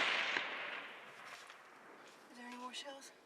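A single rifle shot fired at a bear during a hunt cracks at the start and fades into a long outdoor echo, followed by people talking.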